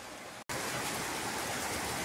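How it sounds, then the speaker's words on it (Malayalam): Heavy rain falls steadily as a dense, even hiss. It cuts out for a split second near the start, then returns loud and continuous. "ഇതുകൊണ്ടേ ഇരിക്കുകയാണ്, നല്ല മഴയാണ്."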